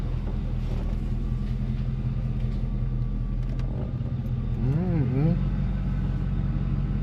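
A C4 Corvette fitted with a newly installed 4L60E automatic transmission rolls off in drive, its low engine rumble steady throughout, briefly joined by a warbling rising-falling tone near the end, with talk over it.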